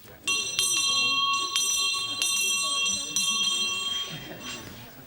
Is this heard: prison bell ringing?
yes